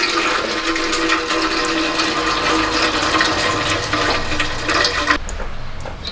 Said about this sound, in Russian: Солярка сбежала.